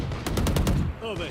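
Valorant gunfire comes as a quick rhythmic burst of about six close, sharp shots in just over a second, followed by a short bright chime.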